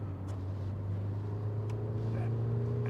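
A Peugeot 405 turbo diesel, 90 horsepower, drones steadily from inside the saloon while driving, a low constant engine hum with road noise and no sharp changes.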